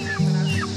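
Meat chickens clucking, a short, loud, close burst of two throaty clucks in quick succession.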